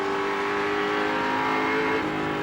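Dick Johnson's touring car at Wanneroo in 1986, engine droning steadily loud and close as it accelerates out of BP corner, recorded from the onboard race cam with no talk.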